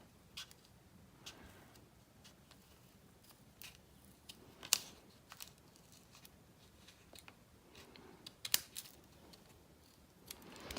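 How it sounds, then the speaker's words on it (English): Scissors snip one sheet of paper while a panda notebook is shaped, giving quiet, close crisp cuts spaced irregularly with a few louder snips. "I'm just going to shape the top here by cutting into the corner"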